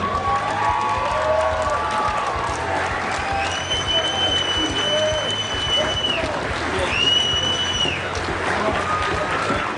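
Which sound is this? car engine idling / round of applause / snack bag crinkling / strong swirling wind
round of applause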